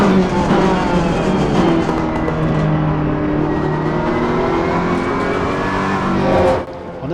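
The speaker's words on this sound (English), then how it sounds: "on games like Assetto Corsa, the pops and the cackles from the engine just sound absolutely magnificent" A car engine in the Assetto Corsa racing game roars loudly and continuously, its revving tone sliding up and down before cutting off near the end with a brief burst.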